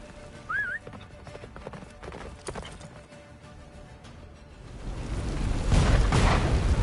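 Horse hooves clip-clopping in a gallop in the Witcher 3 video game, a steady rhythmic beat under wind and a low rumbling storm that swells louder toward the end, with a brief whinny early on.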